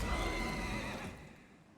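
A single horse in The Elder Scrolls Online video game whinnies loudly and close, its harmonic call wavering before trailing off into quiet.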